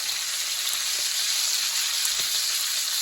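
Pork sizzles and crackles steadily in a hot pan as it starts to caramelize, a close, continuous hiss with a few faint pops and no talking.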